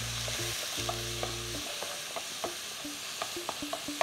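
Oregano and black pepper frying in a pan, stirred with a utensil: soft steady sizzle under a series of light scraping taps against the pan, with a brief low hum at the start and no voices.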